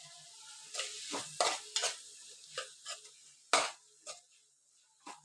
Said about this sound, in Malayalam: പച്ചമുളക് നല്ലപോലെ സോഫ്റ്റായിട്ട് വേവുന്നത് വരെ ഇളക്കിക്കൊണ്ടിരിക്കുക